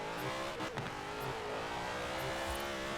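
Zenvo supercar engine in Forza Horizon 4, held at a steady high rev with throttle control through tight corners, loud and continuous with a brief gear-change dip near the start.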